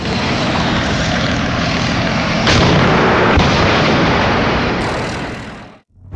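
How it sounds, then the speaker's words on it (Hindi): Tank ammunition burns off in a controlled blow-out, a loud, sustained roaring rush with a sharp crack partway through, cutting off abruptly near the end. "बारूद को नियंत्रित तरीके से जलाया जा रहा है।"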